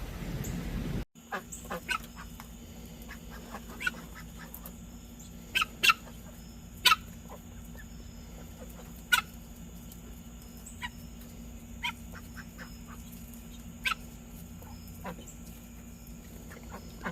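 Guinea fowl calling outdoors on a fall day, with sharp, harsh squawks repeating irregularly over a steady hum, some calls close and loud, others fainter, and no one speaking.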